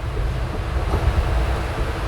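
Wind rushing in through the open window of a moving Puducherry Express train, a steady, fairly soft whoosh over a low rumble of the carriage, without voices.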